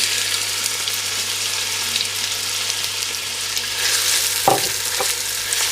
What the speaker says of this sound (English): I'm going to throw in the cumin seeds and just give them a quick mix in there, and then straight in with the onions.